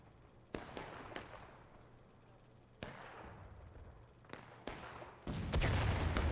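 Artillery in a Civil War battle game fires sharp, distant cannon blasts, a handful spaced irregularly over a low rumble, before a heavier barrage builds at the end.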